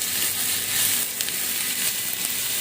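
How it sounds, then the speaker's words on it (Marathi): Onion frying in a small amount of olive oil in a pan, a steady loud close sizzle with faint crackle and stirring throughout, no talking. "ऑलिव्ह ऑइल आहे हे बघा. थोडासा कांदा लाल करायचा आहे"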